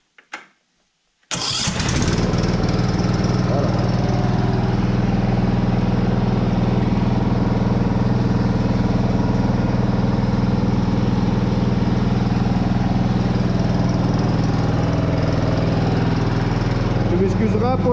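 A riding lawn mower tractor with a dead battery, jump-started from a booster, cranks briefly, then catches and runs at a loud, steady, close engine drone with no letup.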